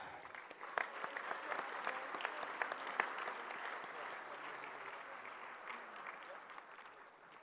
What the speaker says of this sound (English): We should probably give them a round of applause.